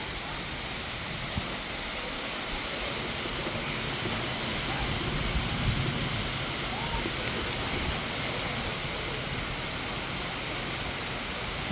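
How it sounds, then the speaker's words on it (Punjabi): Heavy rain driven by a strong windstorm over a town, a dense, unbroken roar of downpour that stays loud and steady throughout, with no voices. "ਹਨੇਰ ਕਾਫੀ ਤੇਜ਼ ਚੱਲ ਰਿਹਾ ਹੈ ਬਾਰਿਸ਼ ਵੀ ਕਾਫੀ ਤੇਜ਼ ਹੈ"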